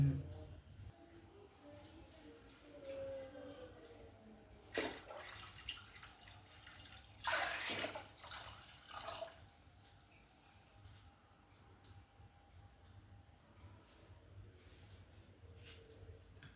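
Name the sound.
water pouring into a container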